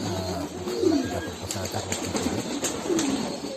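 Pigeons on a pigeon farm coo in a few soft, rolling phrases close by, with faint rustling and other farm sounds in the background.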